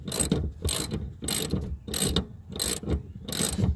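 A hand ratchet tightening a nut onto a bolt on a Holden VL Commodore, six evenly spaced clicking strokes, close and clear with no talking.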